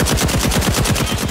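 Sustained automatic AK rifle fire in the first-person shooter Caliber, loud and close, with rapid evenly spaced shots in one continuous burst and no voices over it.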